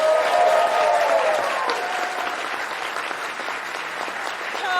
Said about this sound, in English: So let's keep that applause going for Kevin Eastman.